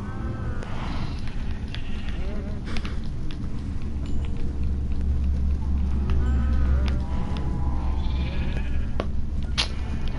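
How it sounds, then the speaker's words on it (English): Repeated sheep and baby sheep bleats in a video game rise and fall over a steady, busy background of game noise, with a few sharp clicks scattered throughout. "It's got a baby sheep!"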